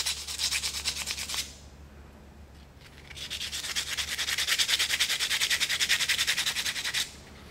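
Chrome-plated guitar knobs rubbed with 80 grit sandpaper: two bursts of fast, rhythmic scratching strokes, close and fairly loud, separated by a short quiet gap with no talking.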